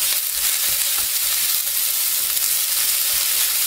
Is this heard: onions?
yes